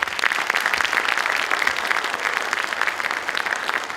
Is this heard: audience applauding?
yes